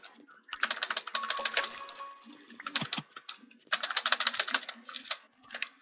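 Fast typing on a computer keyboard while playing Roblox BedWars comes through as dense bursts of close, crisp key clicks, pausing briefly between flurries.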